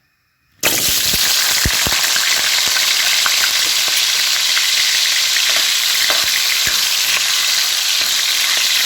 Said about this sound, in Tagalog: piprito muna natin yung patatas